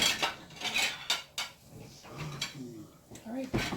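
Clean dishes, pots and cutlery clattering and clinking in a home kitchen while pork chops are being cooked, with sharp metallic knocks in bursts and voices talking in between.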